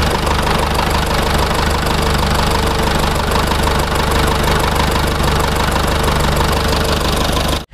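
A Toyota SUV at a used-vehicle shop idles up close, its engine giving a loud, steady rumble with a regular ticking, knocking pulse throughout.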